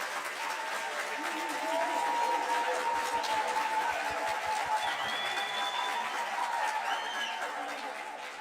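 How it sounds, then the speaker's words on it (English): Audience applause at the Chief Albert Luthuli Memorial Lecture, a dense, steady wash of clapping that holds at even strength from start to finish, with faint crowd murmur and a chuckle or two mixed in. "Can we give them a round of applause?"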